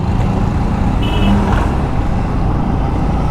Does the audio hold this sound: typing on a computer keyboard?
no